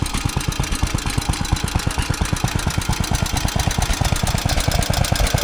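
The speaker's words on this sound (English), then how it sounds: "there's a couple of stationary engines" A stationary engine chugs steadily and loudly at close range at a steam rally at Parham Park, Sussex, its rapid, even beats pulsing without pause.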